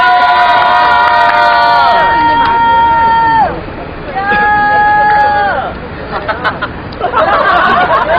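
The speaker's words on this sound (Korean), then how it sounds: "서울대 학생분의 정치 발언 이제 큰 박수로 모셔보면 좋을 것 같습니다." Crowd at an outdoor rally protesting the Korea-Japan comfort women agreement cheers and shouts in loud bursts, with voices calling out, a brief lull, then renewed noisy cheering.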